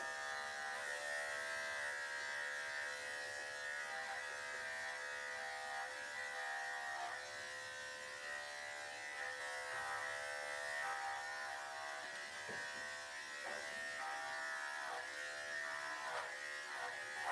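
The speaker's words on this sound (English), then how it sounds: "Oh my gosh, and the clipper is extremely lighter." Electric clippers with an old 7 blade buzz continuously while a doodle is groomed at home, a steady close hum with slight changes in tone as the blade moves through the coat, with no talk.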